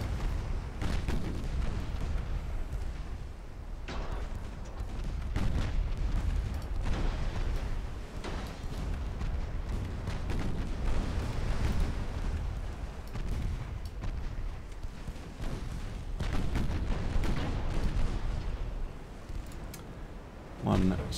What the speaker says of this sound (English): Wow, that one's exploding. Must have been an ammunition transport or something.